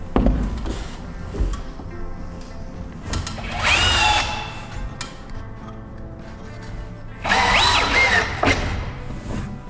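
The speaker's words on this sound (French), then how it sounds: "Donc le tasseau, on le visse à ras du renfort." A power screwdriver drives screws into a wooden batten while a flat-roof garden shed is assembled, with two distinct whirring bursts rising in pitch, separated by quieter handling noises.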